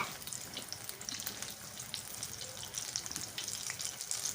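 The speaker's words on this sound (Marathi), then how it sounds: "आता हे हलवून आपण भाजून घ्यायचं आहे व्यवस्थित आणि म्हणजे चारी बाजूनं व्यवस्थित भाजेल" Green chilli pakoras fry gently in oil over a low gas flame, a soft, steady bubbling sizzle with light scattered crackles and faint stirring, fairly quiet and without voices.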